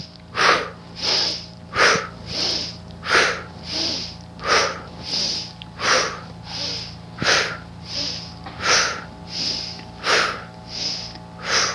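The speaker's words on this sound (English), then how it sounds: "we'll do a cleansing breath where we draw in the energy and exhale, push it away" Quick yoga cleansing breaths, a fast rhythmic run of about fifteen breathy, forceful inhale-exhale pulses at an even pace, close and clear with no talk over them.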